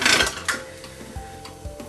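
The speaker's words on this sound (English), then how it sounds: "I'm going to put that through the biggest settings on the pasta machine" Polymer clay being fed through a pasta machine on its widest setting, giving a few soft mechanical thumps and rolling clicks in a short, close burst with a low motor-like hum.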